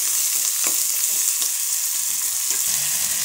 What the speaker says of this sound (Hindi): और ये जीरा और ये बारीक कटा हुआ प्याज है जिसे हम इसमें ऐड करेंगे।